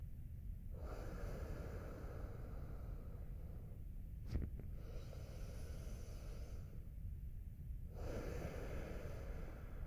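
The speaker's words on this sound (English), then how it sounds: "Now breathe in through your nose and out through your nose. Long breath in and a long breath out." Long, slow breaths drawn in and let out through the nose during a yoga breathing exercise, two or three drawn-out airy cycles with a brief sharp sniff in the middle, close and soft, with no talking.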